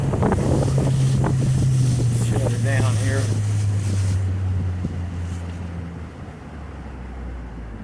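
A 75hp Mercury four-stroke outboard motor on an 18ft Sun Tracker bass boat idles on a lake with a steady low hum under wind buffeting, fading somewhat toward the end, while someone speaks briefly over it.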